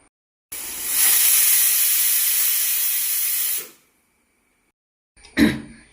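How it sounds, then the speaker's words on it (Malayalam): A kitchen pressure cooker cooking jackfruit seeds for a prawn curry lets out one loud, steady steam whistle-hiss for about three seconds, then it stops abruptly, followed by a brief faint rustle. "കുക്കറിലൊരു അടിച്ചെടുക്കാം. ഒരു വിസിൽ കേൾപ്പിച്ച് എടുത്താൽ മതി"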